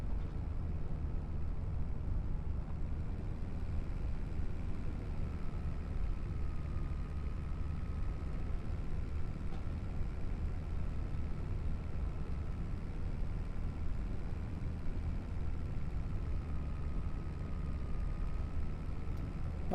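A vehicle engine in the Farming Simulator 25 video game drones at a steady low rumble that never changes, loud and continuous for the whole stretch, with no voices.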